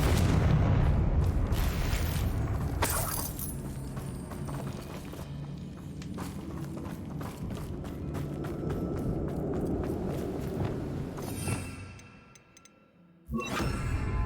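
Confringo blast spell going off in Hogwarts Legacy near a damaged bridge: a dense run of booming, crackling bursts over a rumbling low bed, fading near the end before a final sharp impact.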